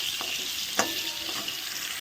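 Sweet pumpkin pieces sizzle in hot oil in a kadai, a steady bright crackle with a few soft stirring knocks, close up and with no talking.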